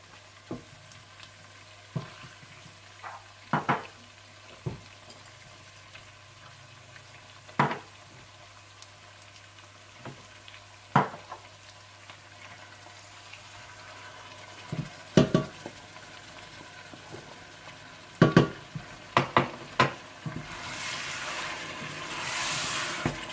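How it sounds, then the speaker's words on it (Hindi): Mutton korma with ground browned onion, yogurt, korma masala, julienned ginger and salt being fried in a pot, giving a soft steady sizzle broken by repeated short clacks of a spoon stirring against the pot, with no talking. "और पिसी हुई प्याज डालकर भून लें।"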